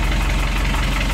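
An old sailboat's inboard engine runs steadily after a violent start, a loud, close, even idle with a low knocking pulse and no voices.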